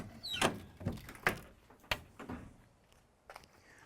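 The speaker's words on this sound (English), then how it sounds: "let me open the door up" A car door is worked open in a series of sharp mechanical clunks, clicks and scrapes, several distinct nearby knocks spread unevenly over a few seconds, with no talk.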